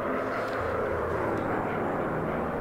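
WW1 fighter planes droning in the VR game Warplanes. A steady, moderately loud propeller engine hum holds without break, like aircraft flying nearby.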